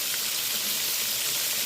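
Country fried steak fries in a pan of hot oil, a dense bright sizzle with crackling spatter, steady and close for a brief moment with no talking.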